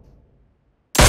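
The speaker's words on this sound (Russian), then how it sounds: "Это ты стрелял?" A single sharp gunshot in a video game bursts in loud and broadband after nearly a second of low, faint rumble, then keeps ringing strongly to the end.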